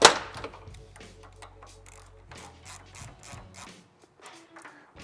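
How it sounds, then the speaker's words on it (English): A ratchet tightens bolts on a Sputhe chassis stabilizer kit for a Dyna, after Loctite goes on the top bolt. Rapid clicking pawl bursts repeat in short runs, close and fairly quiet, with no talking. "Right now I tighten everything"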